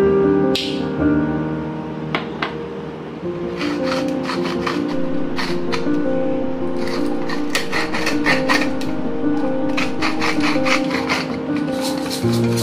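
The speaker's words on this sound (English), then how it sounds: "And grind some black pepper" Black pepper is ground in a hand grinder over a tomato and mozzarella salad, making bursts of close crunchy rasping clicks that come in quick clusters over a faint background hum.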